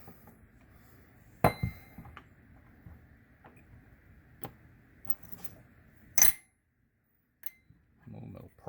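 Small metal rifle parts clink and tick in a metal parts tray during a teardown of an Armscorp M200, with a few sharp isolated clinks among quiet handling sounds.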